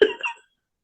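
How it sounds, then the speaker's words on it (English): A single short cough from a person, close and fairly crisp, followed by silence. "I coughed"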